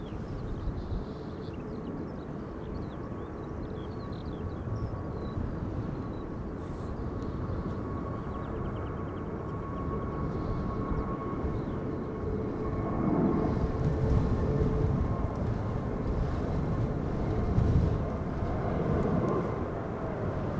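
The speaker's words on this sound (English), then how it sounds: "Air France aborting its landing. Bombardier C-Series 300 A220." An Air France Airbus A220 (Bombardier C-Series 300) aborts its landing and goes around at windy Amsterdam Schiphol, a continuous distant jet roar that swells and grows rougher in the later half, with no voices.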